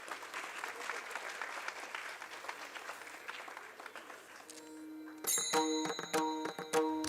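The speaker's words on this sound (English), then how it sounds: "Can we have a huge round of applause" Audience applause at an international symposium on law and peace, a steady spread of clapping for several seconds that fades into lighter, sparser claps with some bright ringing tones near the end.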